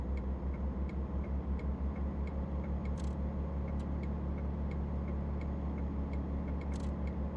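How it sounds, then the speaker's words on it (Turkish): Truck turn signal in Euro Truck Simulator 2, the signal lever slipping down on its own: an even, quiet tick-tock repeating at a steady pace over a low, constant engine drone. "Her dakika sinyal veriyor kendine."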